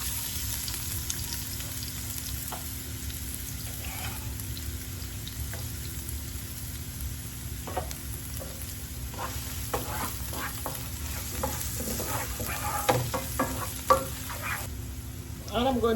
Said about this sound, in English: I'm going to go ahead and add my chopped onion.